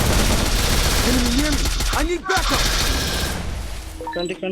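Rapid bursts of automatic gunfire crackle in a shooting video game, loud and dense, with sharp overlapping shots and a few pitched tonal effects near the end.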